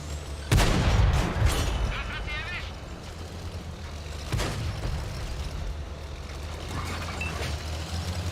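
Tank cannon shots in a video game firing at the player's tank: a heavy booming blast followed by rumbling decay, then a second duller boom a few seconds later, with a steady engine drone and someone talking throughout.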